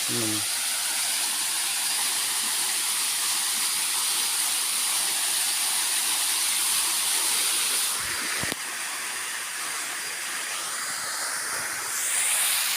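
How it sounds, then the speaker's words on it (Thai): Steady broadband roar of a waterfall about 10 metres high in a Thai beauty spot, a continuous close rushing hiss with a brief dip partway through. "มองนี่ก็น้ำตกสวยงาม"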